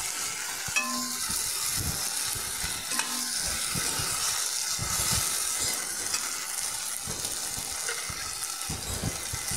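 Greens frying with flour in a pan give a continuous close sizzle, broken by scraping, clinking stirs of a ladle against the metal.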